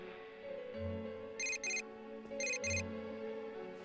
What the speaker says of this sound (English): Here come the phone calls.